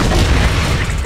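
A grenade going off in a first-person shooter game, a loud low boom rumbling across the whole short moment with a voice speaking over it.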